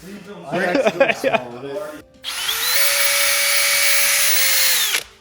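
A power drill fitted with an eraser wheel whirs at a high, steady pitch for a few seconds as it grinds old gasket remnants off a Camaro transmission part, after a stretch of people talking.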